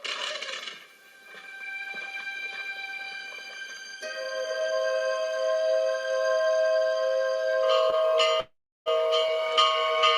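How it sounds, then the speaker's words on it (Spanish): A church bell rings with resonant, sustained metallic tones that layer and linger, with a brief silence near the end before ringing resumes. "¿No oye la campana?"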